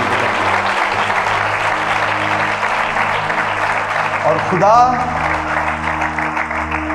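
A church congregation breaks into loud sustained applause, a dense wash of clapping under an amplified preacher's voice, with a rising tonal swoop of sound partway through.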